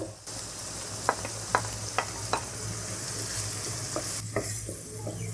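Two onions sizzle steadily in a pan for Hyderabadi boti salan, with several sharp clinks of a spoon stirring against the metal over the continuous frying hiss.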